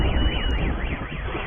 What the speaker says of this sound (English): Now it's set off every car alarm in this parking lot